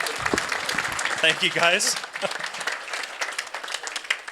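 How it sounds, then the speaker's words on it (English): An audience at a community meetup applauds the serving staff, a dense wash of clapping throughout while someone speaks briefly over it. "let's give them a round of applause as well"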